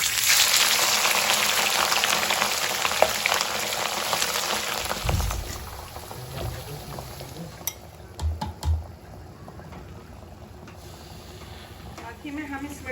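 Small beef pieces tumble into a hot kadhai with a loud, hissing sizzle that crackles for several seconds before settling into quieter frying with a few clanks of a spoon against the pan.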